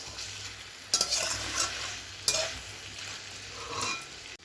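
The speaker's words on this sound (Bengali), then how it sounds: "আমার মশলার সঙ্গে আলুটাকে বেশ ভালো করে কষিয়ে নিচ্ছি" Potatoes being fried and stirred with spices for a Bengali mutton curry: a steady close sizzle with scraping stir strokes and a couple of sharp utensil knocks against the pan.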